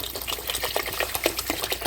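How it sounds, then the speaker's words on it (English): Bottled water poured into a pot while making a spicy pot roast, a steady liquid splashing with small rhythmic surges, close and moderately loud, with no talking. "I'm using bottled water."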